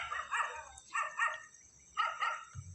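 At night around 11:30 a dog outside a house lets out three pairs of quick barks separated by short pauses, each pair distant and fairly faint.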